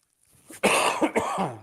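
A single harsh cough bursts out close by, then a short follow-up cough and throat-clearing rasp, loud and isolated with no talking around it.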